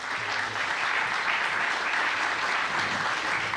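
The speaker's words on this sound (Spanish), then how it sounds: "al doctor Dante Jehová Cisneros García, también para quien les pido un caluroso aplauso." An audience at an academic ceremony gives warm applause, a dense, even wash of clapping hands that holds steady throughout with no talk above it.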